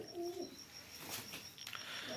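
A Shaki pigeon gives a soft, low coo, a short rolling call heard once or twice close by against quiet background chatter from other birds.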